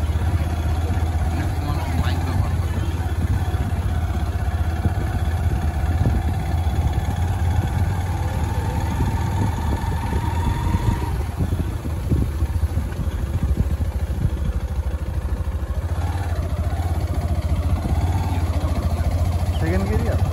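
A Yamaha FZ motorcycle engine runs steadily while riding, a continuous mid-pitched drone with a rising tone shift as it pulls through a gear, loud and close with wind noise throughout.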